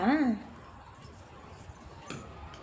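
A short, high whining yelp from a dog at the very start, then quiet room noise with a faint clink later.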